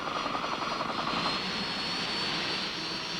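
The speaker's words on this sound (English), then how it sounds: "The lightweight howitzer is sling-lifted by UH-1D helicopters, familiarly called Huey" A UH-1D Huey military helicopter in Vietnam-era airmobile operations flies with a loud, steady engine and rotor roar that holds for the whole stretch.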